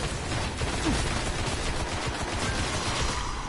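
Rapid gunfire in the shooter game Destiny, fired at a creep, forms a dense, steady barrage of overlapping shots for several seconds, loud and continuous with no pauses and no talking.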